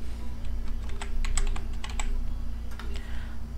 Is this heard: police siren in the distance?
no